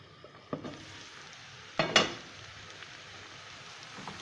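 Potatoes sizzle and fry in oil in a home kitchen, a steady soft crackle with a couple of louder stirring scrapes and spatters, no voices.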